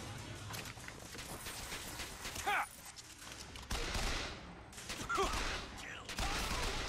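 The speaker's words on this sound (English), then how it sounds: "They're shooting at me again." Gunfire in the video game Bioshock Infinite crackles in quick bursts and scattered shots over a busy in-game background, fairly quiet overall, with a voice talking at times.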